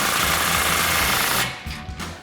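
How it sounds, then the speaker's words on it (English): A ratchet with a 15mm socket tightening an exhaust clamp on an EcoBoost F-150, a loud rapid buzzing clatter that runs steadily and then breaks into a few short bursts. "tighten it down with a 15mm socket"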